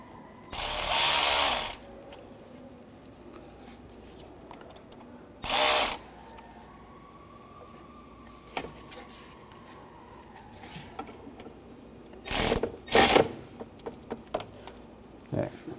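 A ratchet tightens a coolant hose fitting on the thermostat housing of a 2011-2015 Chevy Cruze, several short bursts of rapid clicking separated by quiet pauses, close up, with a voice speaking briefly between bursts.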